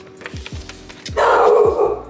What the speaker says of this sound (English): my dog is tripping.